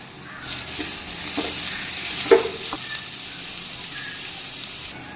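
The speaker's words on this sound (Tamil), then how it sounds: "இப்போ இது கூட நம்ம நறுக்கி வச்சிருக்க தக்காளியை ஆட் பண்ணி நல்லா கிளறி விட்டுக்கலாம்." Chopped tomatoes frying with mint in a pan as they are stirred, a quiet steady sizzle with a few scraping stir strokes, close by and with no talking.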